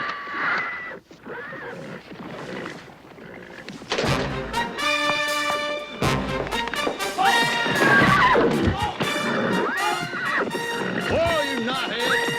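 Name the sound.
horses neighing, mustangs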